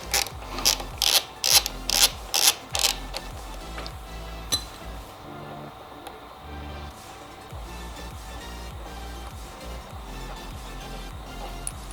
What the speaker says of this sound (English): First thing you're going to do is take a 5mm Allen key. I'm going to use it on a socket, and we're going to take these off.